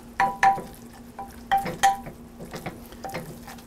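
Flour cooking in a pan for a roux, with soft sizzling under a few sharp clicks and scrapes of a utensil stirring against the pan, close and fairly quiet, with no talking.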